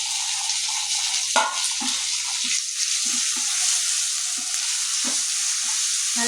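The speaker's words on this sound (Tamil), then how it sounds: "இஞ்சி பூண்டு பேஸ்ட்டு கொஞ்சம் சேர்த்துட்டு இது கூடவே தக்காளி சேர்த்துக்கோங்க." Onions, ginger-garlic paste and tomato sauté in a pan for potato kurma: a steady close sizzle with a few scraping stirs of the spoon and no talking.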